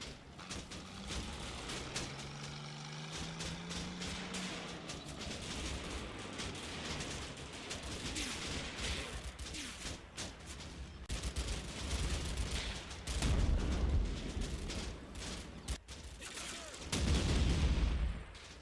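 Small arms and machine gun fire in the World War II strategy game Combat Mission Fortress Italy crackle in dense, overlapping bursts at a distance, with heavier thumps and swells of fire rising toward the end.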